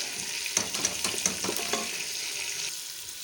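Crushed chili, cumin and salt sizzle in a pan for a chicken chana dish, with a steady soft frying hiss and a few clinking stirs of a utensil near the start, no talking.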